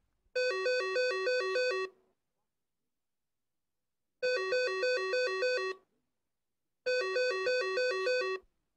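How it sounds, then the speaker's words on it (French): A phone rings three times, each electronic ringtone burst lasting about a second and a half, separated by silent pauses. Clear and close, no voices. "Une sonnerie retentit. 2 sonneries. 3 sonneries."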